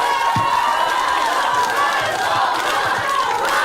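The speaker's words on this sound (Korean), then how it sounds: "오늘의 주인공인 한동훈 대표께 다시 한번 큰 박수 부탁드리겠습니다" A crowd cheers and applauds in a sustained, dense wash of noise at a political event honoring party leader Han Dong-hoon, with a few low thumps mixed in.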